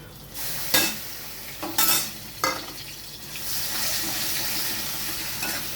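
Ground yardlong bean paste hits hot oil with nigella seeds and a dried chilli, giving a few sharp spatula scrapes and clatters before a steady close sizzle settles in, no voices.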